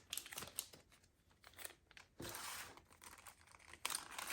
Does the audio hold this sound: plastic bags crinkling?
yes